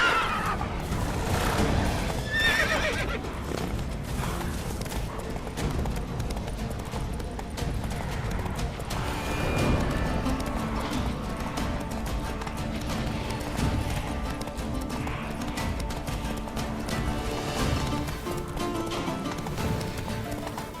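In The Witcher 3, a horse gallops with a steady, rapid clip-clop of hooves and neighs loudly at times, heard up close over ambient game sound.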